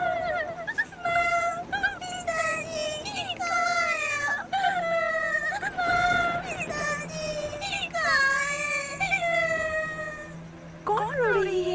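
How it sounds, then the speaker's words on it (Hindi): A small girl wails and sobs in long rising and falling cries, loud and close, continuing almost without pause. "ऐसी तूफानी मौसम में इस जंगल में छोटी बच्ची रो रही है"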